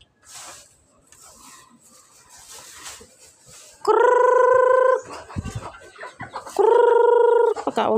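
Chickens cluck and squawk in scattered bursts, then two loud sustained calls ring out close by over faint background noise.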